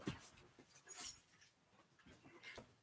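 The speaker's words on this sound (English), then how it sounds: "Hey, hold on, doggy." A dog gives soft, brief whimpers in a quiet room, faint and intermittent with a couple of short whines, no talk over them.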